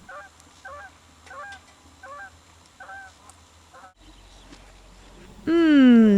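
Geese honk in a steady series of short calls at a moderate distance at the Copper River shorebird flats, followed by a louder, closer honk near the end.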